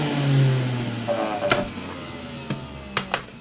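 A Breville Juice Fountain Elite electric juicer hums loudly as its motor winds down after being switched off, the pitch sliding lower, followed by a few sharp clicks and knocks.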